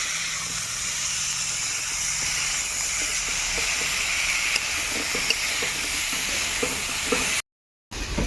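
Salt, turmeric and cumin powder frying in hot oil in a pan, giving a steady, close hiss and sizzle with faint stirring scrapes, cut by a brief silence near the end.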